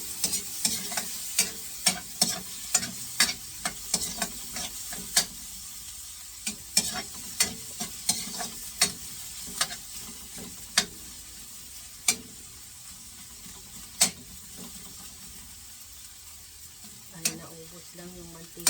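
Chopped garlic and onion frying in cooking oil give a steady close sizzle, broken by sharp, irregular clicks and scrapes of stirring utensils against the pan, with a brief voice near the end.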